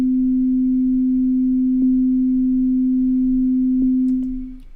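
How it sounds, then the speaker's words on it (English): A steady pure 432 hertz sine tone, loud and unbroken for several seconds before fading slightly at the end, with a couple of faint clicks. "So now 432 hertz."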